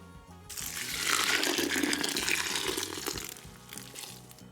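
Water pours steadily into a pot of malt grain for sparging during home beer brewing, a continuous close splashing fill that runs for several seconds with no talk.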